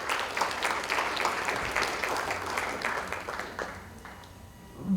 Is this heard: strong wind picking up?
no